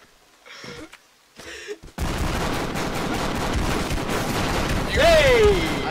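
Gunfire from the Expendabros video game: after a couple of brief voices, a loud, continuous barrage of rapid shots and explosions fills the rest, with a rising whistle-like effect near the end.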